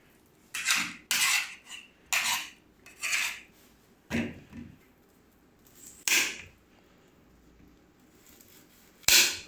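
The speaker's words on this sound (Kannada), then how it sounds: "ಇನ್ನು ನೆಕ್ಸ್ಟ್ ನಾವು ಈರುಳ್ಳಿ ಕಟ್ ಮಾಡೋಣ" A knife chops through an onion on a cutting board in separate sharp knocks, spaced about a second apart, close and clear with quiet gaps between them and no talking.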